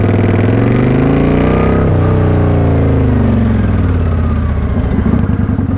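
Motorcycle engine running close and loud as the throttle and clutch are worked together, a continuous droning rumble whose pitch swells and dips with the gas, no talking over it.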